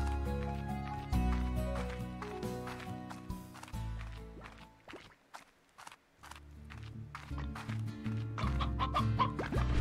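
Chickens clucking in the Slime Rancher video game, repeated short clucks and footsteps scattered over tonal background music that drops out briefly midway before returning.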